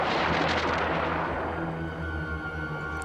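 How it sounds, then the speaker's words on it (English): Heavy artillery bombardment in Star Wars: The Old Republic: a loud, dense rumble of booming blasts that fades into a lower sustained roar with a steady droning hum. "The bombardment has begun!"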